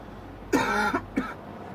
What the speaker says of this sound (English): those wake-up coughs really get me